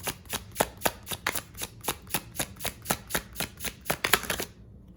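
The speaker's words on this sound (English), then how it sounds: "It's very easy to shuffle this way as well." Smith-Waite Centennial tarot cards, standard size, being shuffled: a steady run of about twenty crisp, evenly spaced riffling snaps close up, ending abruptly with no talk.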